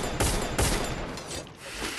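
Several loud bursts of video game gunfire crack out in quick succession, then a steady rattling of shots continues under a noisy background.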